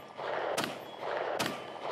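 SIG P320 M17 9mm pistol fired twice, two sharp cracks about a second apart heard at a distance over heavy wind-like background roar.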